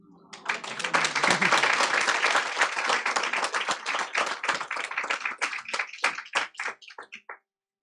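Audience applause for school winners at a school district board meeting, with dense, steady clapping from a room full of people that thins to scattered individual claps before stopping.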